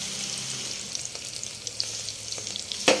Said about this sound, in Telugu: అల్లం వెల్లిపాయ పేస్ట్ యాడ్ చేసిన తర్వాత పచ్చివాసన పోయేంత వరకు కొంచెం దూరగా వేయించుకోవాలి